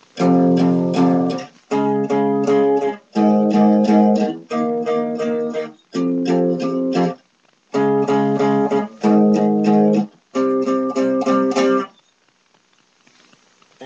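Electric guitar strums power chords in short, repeated bursts separated by brief pauses, then a ringing fade into near silence; the chorus of a song.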